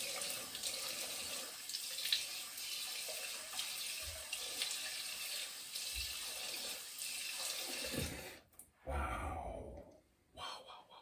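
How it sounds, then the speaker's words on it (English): A tap runs steadily as alum is rinsed off the skin, a faint close hiss of flowing water for about eight seconds before it stops, followed by splashes and a short sigh or breath. "just rinse the alum off"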